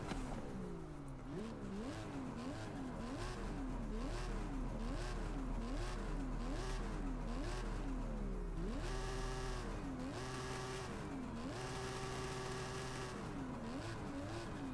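Engine revving of an unidentified sports car in the Forza Horizon 5 racing game, loud and continuous, with rising and falling pitch sweeps through repeated gear shifts, then a higher sustained scream near the end, with no talk over it.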